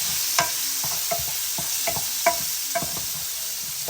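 Steady sizzle of vegetables frying in a pan in a backyard kitchen, with a utensil scraping and stirring at irregular intervals, close up with no talking.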